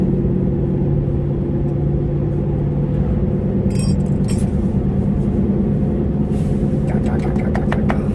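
A car drives along a road, its steady low engine and tyre rumble continuous and close, with a few brief rattles and jingles inside the cabin.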